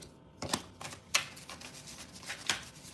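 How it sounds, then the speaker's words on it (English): Tarot cards are shuffled by hand in a few soft, separate riffles and slaps, spaced unevenly, close and quiet with no talking. "We're going to shuffle it 42 times and see what comes from it"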